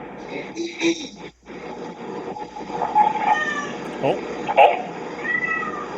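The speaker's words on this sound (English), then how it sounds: "I'm hearing a cat meow." A cat meows several times over a few seconds, fairly faint and mixed in with background noise and some voice activity during a podcast recording.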